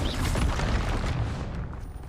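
A Confringo fire spell explodes in Hogwarts Legacy, a loud booming blast with a dense rumbling roar that fades slowly over about two seconds.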